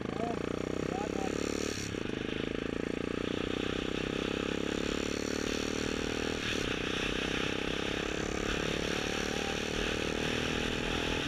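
Royal Enfield Continental GT cafe racer motorcycle riding along with a steady, vibrating engine drone and wind rush, close and continuous throughout.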